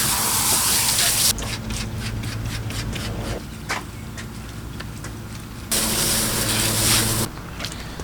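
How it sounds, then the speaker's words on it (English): Bursts of cheap dollar-store wheel cleaner hiss from a spray bottle onto truck wheels caked with Powerstroke brake dust, two loud sustained sprays bracketing quieter rubbing and wiping sounds. "now we're gonna spray it down again and wipe it"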